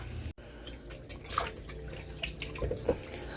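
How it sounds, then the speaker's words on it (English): Chicken thighs being washed by hand in water and apple cider vinegar, with faint drips, splashes and small wet handling sounds at close range, quiet and irregular, with no talk. "Here are some chicken thighs, and I'm gonna wash them with a little bit of water and apple cider vinegar"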